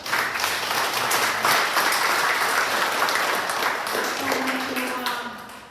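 A graduation audience gives a full round of applause, dense and steady, with voices mixed in and a faint sustained tone surfacing near the end.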